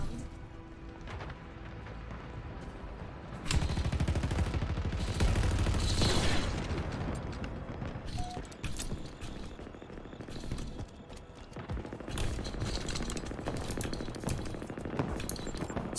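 Gunfire in a Halo Infinite multiplayer match, repeated bursts of shots with heavier volleys in the middle and later stretches, mixed with other game sounds at moderate level.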